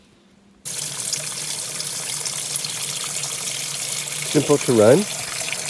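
Cold water runs steadily into a washing machine at a cottage, supplied through a line running under the deck, with a broad hiss starting abruptly and continuing throughout; someone speaks briefly over it near the end.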